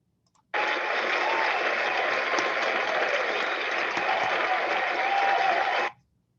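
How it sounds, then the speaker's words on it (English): Applause for an honoree at an Academy of Law alumni fellows ceremony, a steady unbroken round of clapping that starts abruptly, holds at even loudness for about five seconds, then stops. "I'll do a round of applause and turn it over to you."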